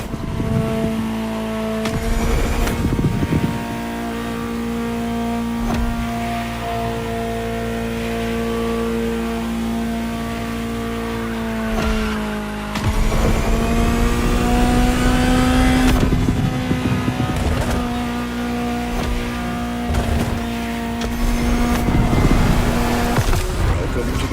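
A powerful Ferrari supercar engine in a racing video game drones and rises through gears, with steady tonal whine and gear-change breaks, loud and continuous.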